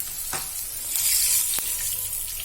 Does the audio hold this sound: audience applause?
no